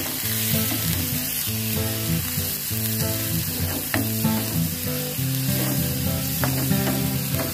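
Snakeskin gourami fish stir-fried with ginger in a hot pan, loud steady sizzling with frequent scraping and tossing of the stir-fry, continuous and close with no talk.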